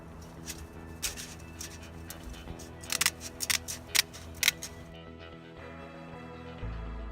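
Snips cut through a metal gutter guard screen in a series of crisp, close clicks and snaps, spaced irregularly, then the cutting stops and leaves a quiet background hum.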